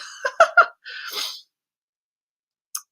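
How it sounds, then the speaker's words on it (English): A quick sneeze with a sharp intake and burst, followed by a longer breathy exhale, then silence and a tiny click near the end. "you can hear me turning my pages and sneezing and yawning"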